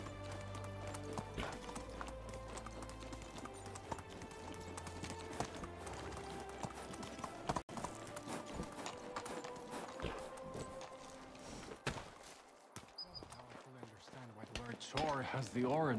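Hooves clip-clop steadily as a horse travels in the medieval life-sim game Medieval Dynasty, a rhythmic trot heard close over game ambience and music, with a brief neigh-like sound and some clatter toward the end.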